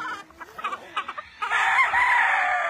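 An Asil rooster crows loudly and close by in the second half, after a series of short, rhythmic clucks from hens at the start.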